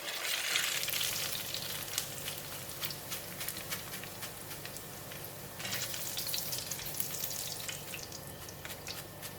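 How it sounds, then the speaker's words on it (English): Shallots frying in a pan of hot oil, a steady close sizzle with crackling pops and occasional stirring scrapes, no voices. "I'm going to switch off the heat and remove them from the pan"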